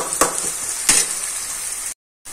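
Sliced onions and potatoes frying in a pan, a steady bright sizzle with two sharp scraping stirs early on, then a brief cut to silence before the sizzling resumes.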